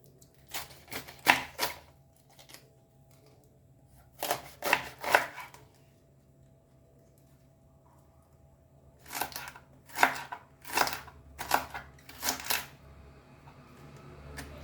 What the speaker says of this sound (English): And now we'll chop this.